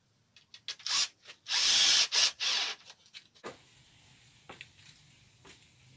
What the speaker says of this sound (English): I'll just screw those onto the bottom.